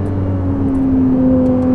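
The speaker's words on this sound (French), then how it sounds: "je fais une fixette sur le son de la voiture que je trouve vraiment fantastique, il est vivant" A loud, steady Ferrari engine drone with a strong tonal hum, holding an even pitch throughout as if idling or cruising close by.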